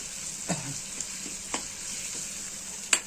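Dark ground masala paste frying in a pan, a soft steady sizzle with a few sharp stirring clicks and scrapes spaced apart, close but quiet, no voices.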